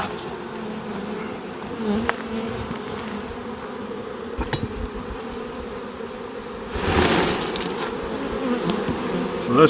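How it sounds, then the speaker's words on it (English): A dense, steady hum of many honeybees buzzing close by in a pan during a mite wash, continuous throughout and swelling slightly louder toward the end. "So that's plenty of bees in the pan"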